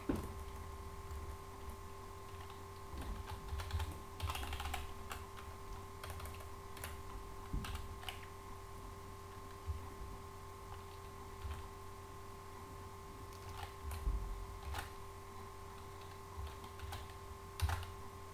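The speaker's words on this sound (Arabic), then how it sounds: "أو أكتب فيسبوك. أكتب فيسبوك ثم" Computer keyboard typing while writing HTML form code, a long run of quiet, close key clicks in uneven bursts and pauses over a faint steady electrical hum, with no talking.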